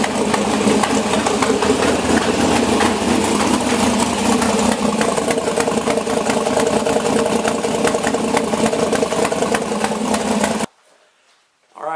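A loud LS7 V8 in an S10 pickup idles close by with a steady, throaty rumble, then cuts off abruptly near the end into near silence.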